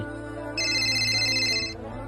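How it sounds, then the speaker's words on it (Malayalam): A mobile phone ringtone plays as a steady, moderately loud electronic tone for about a second over low background hum, then stops. "നീ ആ ഫോൺ എടുക്ക്."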